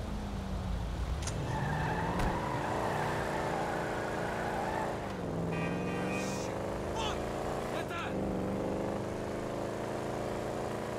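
Car engine driving in Grand Theft Auto V, a steady revving drone with shifting pitch and tire screech, under game music and talk.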